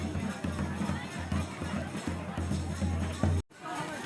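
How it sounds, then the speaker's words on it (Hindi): A bustling crowd at Mukteshwar Dham Nagraj temple in Uttarakhand, a steady murmur of many voices and footsteps close around, with a low hum underneath before a sudden cut near the end. "भीड़ भाड़ देखा एक मंदिर में"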